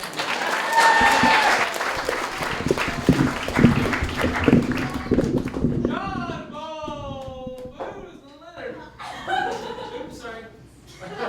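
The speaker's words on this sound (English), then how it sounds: "Could we get a big round of applause for Tim, please?" Applause from an audience at a literary reading series fades out and gives way to someone speaking, with light laughter around him.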